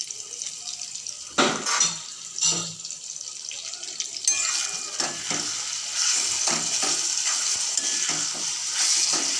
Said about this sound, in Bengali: ভালো করে এবার কষিয়ে নিই।